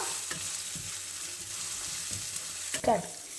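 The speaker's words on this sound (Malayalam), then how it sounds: "തക്കാളി ഇട്ട് കൊടുത്ത് നന്നായിട്ടൊന്ന് മിക്സ് ചെയ്തെടുക്കാം" Chopped tomatoes stirred into a frying masala in a pan, a steady close sizzle with soft spoon scrapes at intervals and a louder clatter near the end, no talking.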